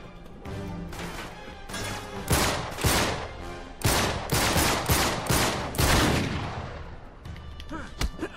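Gunfire from snipers in Uncharted 3 Remastered: a string of loud, sharp shots echoing out at irregular intervals over a busy game soundscape, with no talk.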